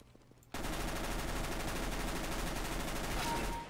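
An SMG in CS:GO fires a rapid, unbroken burst lasting about three seconds, loud and close, after a brief quiet moment.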